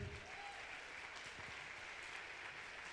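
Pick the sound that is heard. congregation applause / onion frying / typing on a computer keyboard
congregation applause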